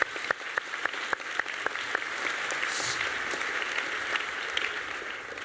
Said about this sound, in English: We'll give a round of applause to Michael.